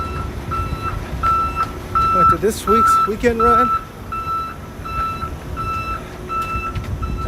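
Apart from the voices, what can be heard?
reversing beeps of a truck backing up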